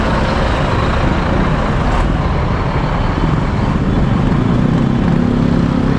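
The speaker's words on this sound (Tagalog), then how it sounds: "Sobrang traffic." Dense, loud road traffic near a Manila terminal, with trucks and motorcycles queued close by, a continuous heavy engine rumble and roar with no break throughout.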